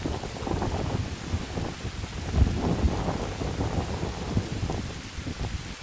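Wind gusts buffet the outdoors along a rainy hiking route in the Scandinavian wilderness, a loud, continuous, rough rushing roar with low rumbling surges and no speech.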